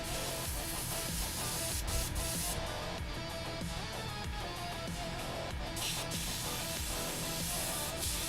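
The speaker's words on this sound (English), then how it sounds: "Once I can get my airbrush spraying cleanly." An airbrush sprays Vallejo brown paint in a continuous, close hiss that briefly dips and resumes, steady and alone without voices.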